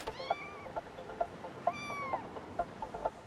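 A cat meows repeatedly inside a grocery store, several short and drawn-out cries in a quiet indoor space, fairly faint, with no talking.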